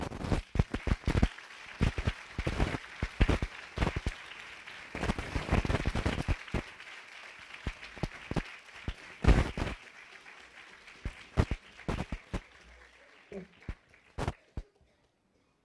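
An audience at the Islamic Center of America applauds after a speech, a scattered, uneven patter of clapping that swells in dense bursts, then thins to isolated claps and fades out toward the end.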